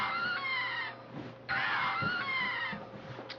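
Dialga's cry from a Pokémon video game plays as a harsh, screeching electronic wail with beeping tones, repeated in two bursts that sound like a yowling cat, with no talk over it.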